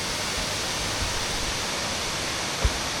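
Steady broadband roar of the Kuang Si waterfall near Luang Prabang, Laos, heard from a viewpoint with trees partly in the way, constant and even with one brief low thump near the end.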